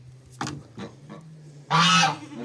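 A gander honks several times in quick, uneven bursts nearby, ending with one loud, drawn-out harsh call.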